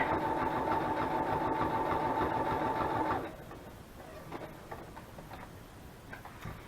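A sewing machine stitches a zigzag through paper ephemera, running as a loud, fast, steady mechanical chatter that stops after about three seconds, leaving quieter handling sounds.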